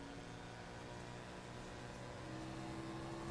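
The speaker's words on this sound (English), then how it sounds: "You hear how easy he is on the throttle right here." Race car engine at Watkins Glen under light, easy throttle, a steady low drone with a faint rise toward the end, heard continuously with no speech.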